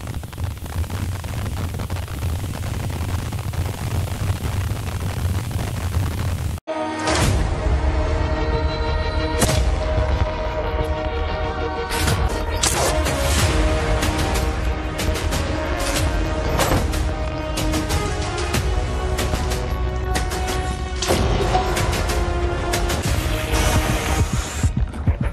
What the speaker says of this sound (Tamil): பயங்கர வெளிச்சத்தோட பட்டாசுட ஆரம்பிக்கலாம்.